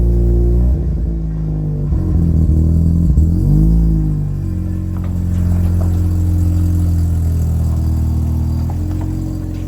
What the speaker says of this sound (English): now we're gonna do a little test drive